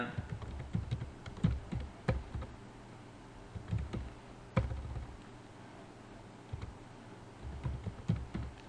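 A name is being typed on a computer keyboard while working in a spreadsheet. Quick irregular keystroke clicks come close and fairly soft in bursts with brief pauses, no speech.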